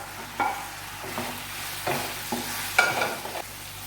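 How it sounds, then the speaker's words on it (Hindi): Chicken, capsicum and fried onion stir-fried over high flame in a pan, a steady sizzle broken by several sharp scraping stirs of the spatula, close and alone with no talk. "अब ये चिकन, शिमला मिर्च और जो प्याज मैंने फ्राई की हुई थी वो मैं ऐड कर रही हूँ।"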